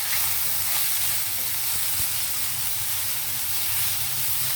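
Tender tamarind leaves stirred in hot oil in a pan for pulihora, giving a constant close sizzle and hiss with faint scraping, alone without talk.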